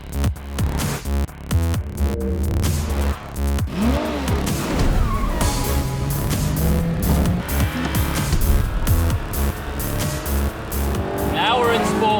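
A Porsche 918 Spyder hybrid sports car drives with a loud, continuous engine and road roar that rises and shifts as it accelerates, under steady talking from inside the car.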